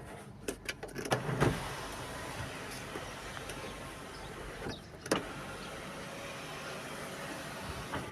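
The sunroof motor of a 2015 Honda car opens with a few clicks, then runs as a steady, smooth electric whir close by inside the cabin.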